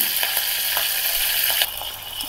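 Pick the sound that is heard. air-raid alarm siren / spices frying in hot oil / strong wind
spices frying in hot oil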